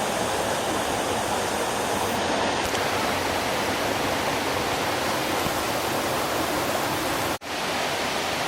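Ezharakund waterfall in Kannur, Kerala, roaring as a steady, loud broadband rush of falling water close by, unbroken for the whole stretch apart from a momentary dip near the end.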